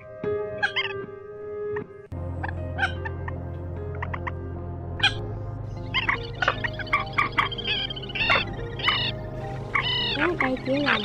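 Recorded calls of Quốc Biển, Quốc Móc, Trích Ré and Sâm Cầm birds used for trapping: layered whistles, chirps and tonal hoots that repeat densely and loudly over a constant low hum, growing busier and more overlapping toward the end.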